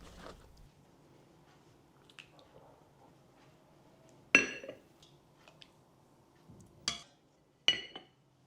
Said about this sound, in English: I'm setting my humble table for the very first iftar of the season